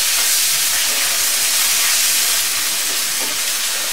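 Ginger garlic paste sizzles in hot oil while being stirred for a Bangladeshi potato dal, a loud, steady hiss that fills the whole moment without pause.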